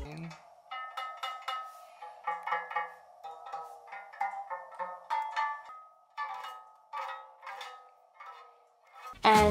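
Differently colored elastic bands stretched around a baking tray are plucked in a steady run of bright twangs and short metallic pings, moderately loud and close, with no talking until a brief bump at the very end.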